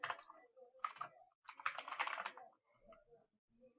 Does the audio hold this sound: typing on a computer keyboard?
yes